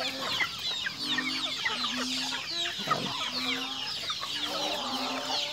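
Breeder hens and their offspring clucking on a provincial farm, a steady chorus of close, overlapping clucks and soft calls, with no talking.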